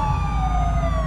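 Police car sirens wailing steadily, loud and continuous with a rising-falling tone over a low engine rumble, with no talking.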